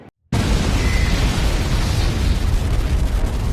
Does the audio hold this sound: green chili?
no